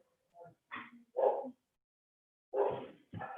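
Several dogs barking indoors nearby, a few sharp yips and barks in two short clusters separated by a pause, fairly loud against a quiet room.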